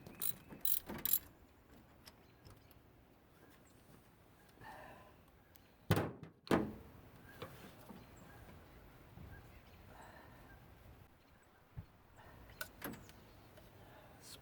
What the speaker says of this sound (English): I'm going to go ahead and pull out the rest of the plugs